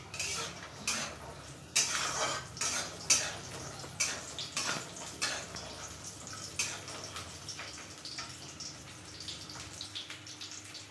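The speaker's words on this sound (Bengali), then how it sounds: "এবার বড়িগুলোকে আমি লাল করে ভেজে নিচ্ছি" Lentil dumplings (bori) frying in a pan, a soft continuous sizzle broken by repeated clinks and scrapes of a utensil against the pan, roughly once or twice a second, close by.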